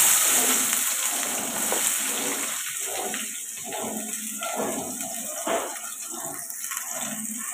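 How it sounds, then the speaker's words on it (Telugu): Chopped onions and green chillies frying in hot oil in a kadai, a steady loud sizzle and crackle that holds throughout, with faint speech in the background. "ఉల్లిపాయలు ఇలా ఫ్రై అవుతాయి కదండి"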